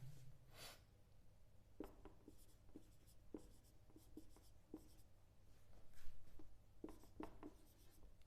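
Marker or chalk strokes writing a number on a board, faint soft taps and short scrapes in an irregular rhythm over a quiet room hum.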